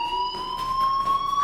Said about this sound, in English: Hey, do you hear that fire alarm?